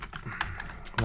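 Fingers tap out a quick patter of soft plastic keystrokes on a computer keyboard, close and fairly quiet, with a slightly louder key press at the end.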